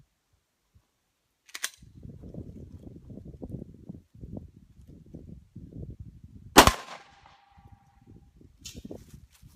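A single sharp Glock pistol shot cracks out near the end of a stretch of soft talking, aimed at a propane tank, with a brief metallic ring after the report and a fainter click later.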